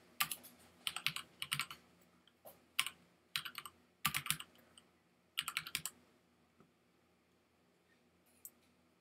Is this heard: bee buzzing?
no